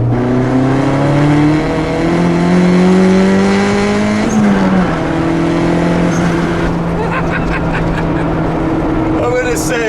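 A 1988 Honda CRX with a boosted B20b engine pulls hard through third gear, a loud, steadily rising harmonic engine drone with a brief shift dip midway and faint speech underneath.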